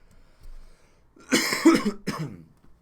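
A single man's harsh, lingering cough during a live online training session, one close, rough burst with a second smaller hack after a quiet lead-in.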